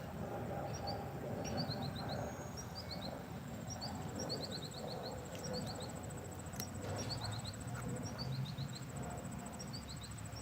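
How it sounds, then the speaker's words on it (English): A bird sings in a park, repeating short bright chirping phrases in a regular rhythm over a soft, steady outdoor background hum. "You don't need to talk when you have a bird talking like that."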